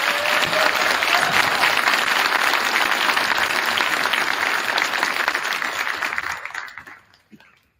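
A school audience applauds eighth-grade students at an academic recognition ceremony, a dense, steady wash of many hands clapping that holds for several seconds before fading out.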